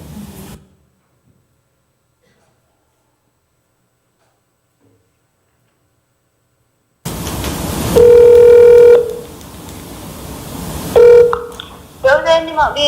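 Phone call being placed: after a long silence, a loud ringback tone sounds twice with handset clatter between, followed by speech on the line.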